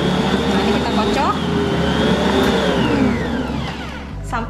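An electric mixer runs steadily, beating white bread dough for a butterfly pea flower loaf after white butter (shortening) is added, a continuous motor whir with slight pitch shifts throughout.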